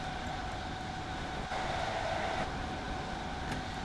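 Interior of a Class 317 electric train in a train simulator game, a steady loud rumble of the carriage running along the track, constant throughout with faint rhythmic clicks and no voices.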